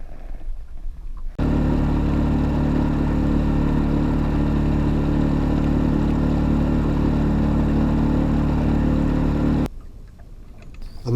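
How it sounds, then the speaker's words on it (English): A fishing boat's outboard motor runs steadily across a reservoir after a day of pike fishing, a loud, constant engine drone that starts abruptly, holds for about eight seconds and cuts off, with wind and quieter ambience before and after. "It's time to motor back in."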